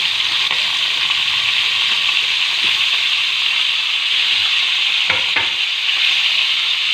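Beef frying in hot oil in a pan for shinwari karahi, a steady loud sizzle throughout with a couple of brief scraping stir sounds near the end; no voices.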